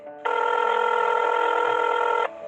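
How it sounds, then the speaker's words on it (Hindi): A telephone rings once in a single steady electronic tone lasting about two seconds, loud and close, with no voices around it. "वो वहीं टेबल पर पड़ा अपना फोन उठाते हैं और वीर को फोन करते हैं"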